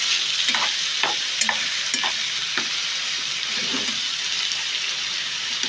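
Chicken pieces frying in a pan while being turned over, a loud continuous sizzle broken by several scraping clatters from flipping and stirring.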